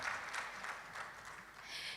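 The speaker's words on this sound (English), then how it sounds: "Please let's give her a round of applause" Audience applause at the opening session of a STEM conference in Ghana's Ashanti region, a steady hiss of clapping from a sizable crowd lasting a couple of seconds, fairly faint and even throughout.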